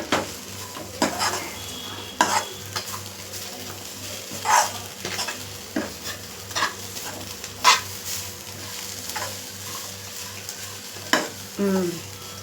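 Fish fries in a pan with a steady low sizzle, broken by intermittent scraping and stirring clatters, with a faint dog barking somewhere in the background.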